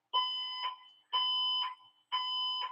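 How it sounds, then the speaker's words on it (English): A fire alarm blares indoors in three repeated electronic tones, each about half a second long with brief gaps between them, fairly loud and steady with no talking. "I'm really sorry about this damn fire alarm"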